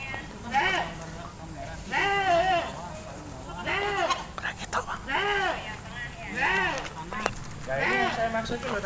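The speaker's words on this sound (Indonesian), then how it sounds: "Kambing." Goat bleats in wavering, repeated cries at a steady pace, several calls spread across the stretch, moderately near, with soft talking in the background.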